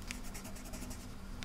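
A colored pencil fills in hearts on paper with a continuous close scratchy scraping, steady strokes with a faint rhythmic texture and no talking.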